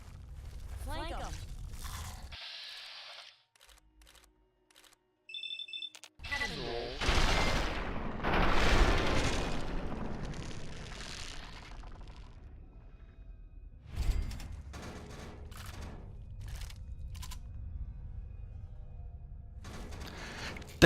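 Enemies open fire in Fallout 3, with rattling bursts of gunfire, a few booms and swishing effects rising and falling across the scene. Voices talk over and between the shots.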